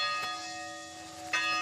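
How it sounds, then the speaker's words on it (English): Church bell of a rural 1800s country church, two clear ringing strikes about a second apart with a long metallic hum between them, alone without voices. "They would ring the bell, not just for religion, but for social gatherings."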